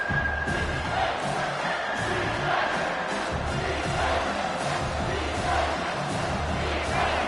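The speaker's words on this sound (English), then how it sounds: "Third down, and this crowd is tearing the lid off this place." A stadium crowd at a football game roars continuously on third down, a dense, loud wall of cheering and shouting with rising swells throughout.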